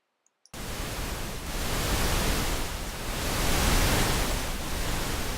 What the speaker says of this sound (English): Here we have a pink noise content